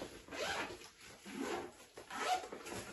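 The zipper of a new Nike backpack is pulled open in three quick, close rasping strokes with short pauses between them, quiet and with no talking.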